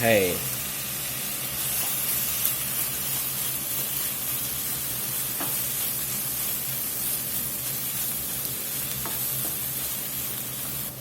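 Vegetables and garlic sizzle steadily in a pan for a Louisiana blackened hamburger soup, a constant close frying hiss with a few faint clinks of stirring and no talking.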